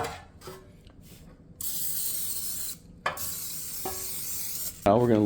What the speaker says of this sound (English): First thing I'm gonna do is spray these really good.